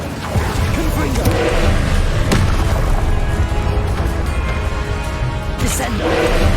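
A Confringo blasting spell from Hogwarts Legacy on PC goes off in a low, booming explosion with a whooshing burst, dense and loud amid other game effects, with a character's voice calling out spells.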